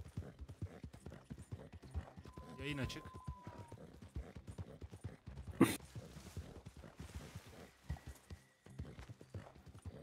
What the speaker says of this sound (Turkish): Ah atlar.